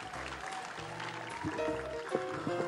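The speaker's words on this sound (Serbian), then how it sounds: "Molim vas još jedan veliki aplauz za Big Band RTS-a." Audience applause for the RTS Big Band rises into a sustained clapping wash, with some tonal sounds mixed in and growing slightly louder toward the end.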